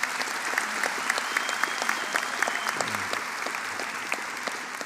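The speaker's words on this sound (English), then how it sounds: "One more round of applause for these fine graduates" Audience applause for architecture graduates at a university convocation, with many distinct hands clapping in a lively, steady patter that sounds close and fills the room without any talking over it.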